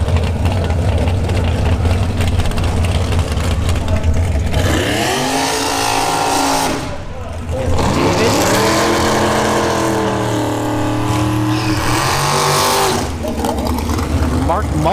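Race cars at a drag strip during a bracket series event, loud engine roar rising and falling with revving passes, under a public-address announcer talking throughout.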